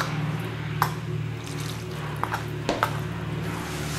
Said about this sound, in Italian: ora iniziamo ad impastare aggiungendo dell'acqua